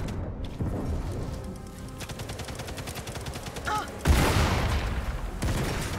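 A TNT blast in the Sniper Elite 5 co-op video game, a loud booming explosion following a stretch of rapid gunfire, with players talking around it.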